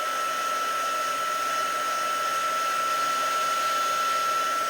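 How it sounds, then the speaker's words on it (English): A heat gun runs continuously at close range, melting clear embossing powder for an inked snowflake effect; its steady blowing hiss and fan whine hold level throughout, with no talking. "I'm just going to bring in my heat gun"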